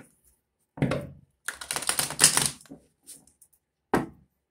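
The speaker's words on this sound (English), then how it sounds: "one more shuffle" Tarot cards riffle and slap together in short bursts, a quick shuffle followed by a final tap, close and fairly quiet with silence between.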